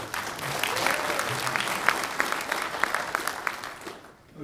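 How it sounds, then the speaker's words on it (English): Audience applause at a county sheriff candidate forum, a sustained round of many hands clapping at moderate distance with a few sharper claps standing out, before it tapers off near the end. "let's just hold our applause as we get through these questions"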